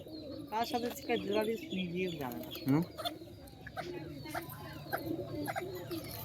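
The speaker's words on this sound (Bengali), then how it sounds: "কত পায়রা দেখ" Pigeons coo around a home loft, with low rolling calls and bursts of wing flapping mixed with chirps, close by, while a person talks now and then over the birds.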